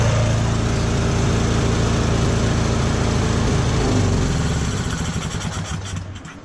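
A John Deere L120 lawn tractor's 20.5 hp commercial engine runs loud and close with a steady throbbing drone after a tune-up, then winds down and slows near the end.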